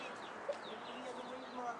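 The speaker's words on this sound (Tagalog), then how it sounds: "Ang isang mga manok namin." Backyard chickens cluck faintly at a distance in scattered short calls over a steady outdoor hiss.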